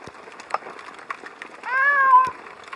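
A single drawn-out cat meow rises and falls near the middle, close and clear above faint background knocks and rustles.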